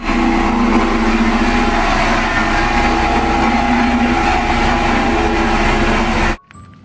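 A toy cement mixer truck plays a continuous, loud engine rumble with a steady motor drone for about six seconds, then stops suddenly.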